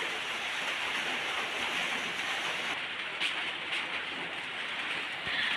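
Heavy rain pours down in bad weather, making a continuous broadband roar and hiss that stays even from start to end, with no voices.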